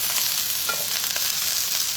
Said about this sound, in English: When you hear this sizzling sound, what you're going to do is you're going to take this and you're going to push this to the back.